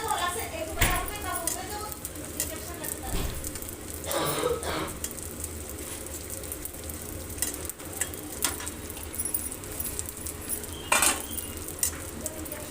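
Crushed edible gum (gond) roasts in a pan for winter laddus with a soft, steady sizzle, while a spoon clinks and scrapes against the metal pan under ongoing talk.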